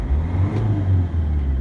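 A Land Rover Freelander TD4 diesel fitted with a simple turbo boost controller revs up to about 3,000 rpm, a close, steady, droning engine note that holds high with slight wavering and no talk over it.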